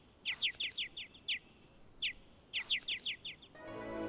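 Bird calls in a find-the-bird-pairs puzzle from a Puss in Boots video game: two bright rapid bursts of about six chirps each, with a single chirp between them, clear and close over a quiet background.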